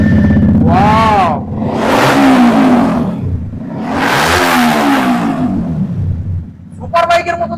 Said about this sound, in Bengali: একদম দাদা সুপার বাইকের মতো সাউন্ড আছে গাড়ি